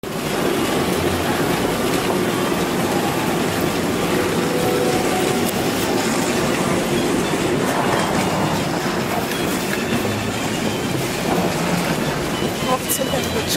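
An airport train in Atlanta rumbles steadily with a broad, continuous roar and rattle throughout, loud and close, with faint voices in the background.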